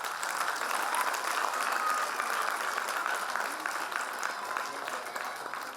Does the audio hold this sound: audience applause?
yes